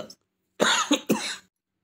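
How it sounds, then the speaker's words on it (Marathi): A woman with a congested chest coughs while out travelling: a brief sound, then a short pause, then a close, harsh fit of two or three quick coughs running together. "बोलता बोलता एकदमच खोकला चालू झाला"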